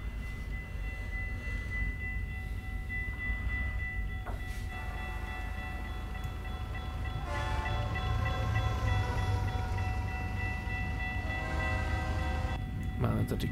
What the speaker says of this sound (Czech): Krásný, krásný kontejnerový vlak.